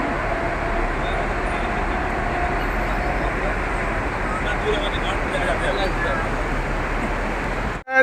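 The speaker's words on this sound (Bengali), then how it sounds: "মেট্রো চলে যাচ্ছে" A Dubai Metro train passes near the Museum of the Future, a steady rumbling roar of the rail cars that stays constant before cutting off abruptly at the end.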